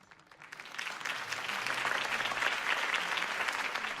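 Crowd applause rising to a sustained roar of clapping in the Telltale Batman video game, heard as a political campaign rally crowd cheers for Harvey Dent; dense, continuous and fairly loud, swelling over the first second and holding steady.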